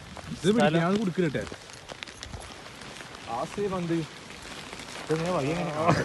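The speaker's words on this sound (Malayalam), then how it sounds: "മഴ പെയ്ത്" Rain falls steadily outdoors during a monsoon outing, a constant hiss of drops in the background while people talk loudly over it in bursts.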